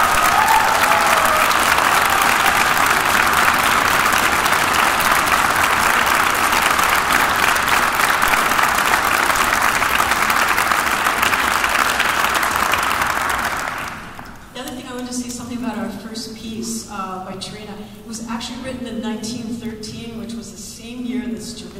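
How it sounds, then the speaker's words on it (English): Loud, sustained applause from a concert-hall audience honoring graduating seniors at a university orchestra performance, a dense wash of clapping for about fourteen seconds before it fades out and instrumental music takes over. "give them a big round of applause"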